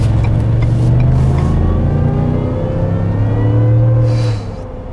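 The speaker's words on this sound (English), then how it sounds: "I like the subtle whine of the supercharger when you're like barely getting on it" A supercharged 2021 Ford F150 pickup accelerates hard from inside the cab, its engine note climbing in pitch with a faint supercharger whine layered on top, loud and close, then dropping off near the end.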